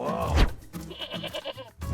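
A goat bleats loudly up close, a wavering, nasal cry, followed by a second shorter bleat at the end.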